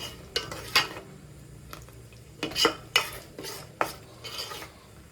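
Masala fries in oil in a pan for egg sambar as a spoon stirs it, with soft sizzling under a series of sharp scraping and clinking strokes of the spoon against the pan, close by.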